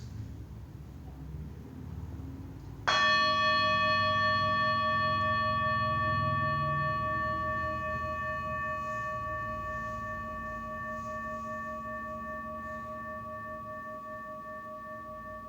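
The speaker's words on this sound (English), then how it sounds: "I'm going to sound the meditation bell" A meditation bell strikes once, sharply and clearly, after a few seconds of quiet background, then rings with a long, steady tone that slowly fades over the remaining dozen seconds.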